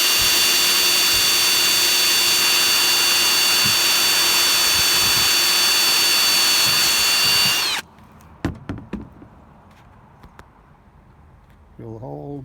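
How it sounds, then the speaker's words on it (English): Power drill boring new holes in a 1980 AMF Sunfish sailboat for trim installation, a loud steady high whine for several seconds, then abrupt stop followed by faint clicks and taps. "So I always take a drill."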